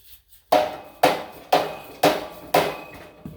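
Five solid, evenly spaced thuds of a dead blow hammer striking while fitting a snow plow, about two per second, each with a short decaying ring, close by.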